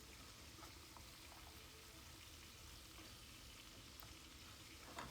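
Rooster meat frying in oil in a pan, seasoned with black pepper, giving a steady, quiet crackling sizzle throughout with a faint clatter at the very end.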